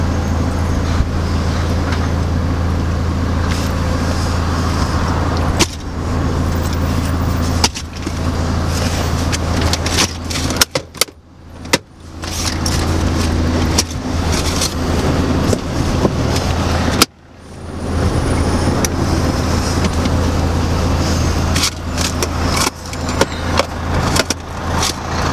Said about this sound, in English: Where's all this traffic coming from?